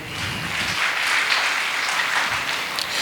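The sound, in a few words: church congregation applauding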